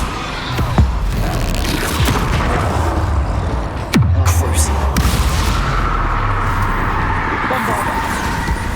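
A Bombarda spell explosion in Hogwarts Legacy goes off as a sharp booming blast amid steady rumbling combat noise, with a few other sharp impacts scattered through the dense game sound.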